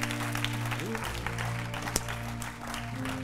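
A church congregation claps in praise of the Lord, a steady dense patter of hands with a sharp louder clap near the middle, under held musical tones.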